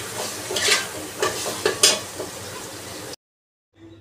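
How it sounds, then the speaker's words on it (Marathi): Chopped tomatoes and green chillies sizzle and fry in a pan, stirred with a spoon that scrapes and clatters a few times, close and fairly loud, before the sound cuts off abruptly. "तर ते टोमॅटो आणि मिरची टाकून घेतली आणि यांना सुद्धा व्यवस्थित असं फ्राय होऊ देणार आहे"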